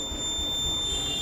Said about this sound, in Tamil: side ஸ்டண்ட்னா beep sound